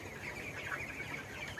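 A shed full of 25-day-old contract broiler chickens, about 1150 grams each, keeps up a steady chorus of soft overlapping clucks and chirps at moderate distance, with no voices.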